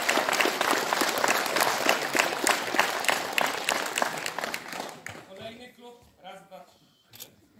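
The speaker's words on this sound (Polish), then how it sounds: "Wielkie brawa." An audience at a wrestling league opening ceremony applauds a visiting wrestling club, dense clapping for about five seconds that then thins out and fades as a voice begins speaking.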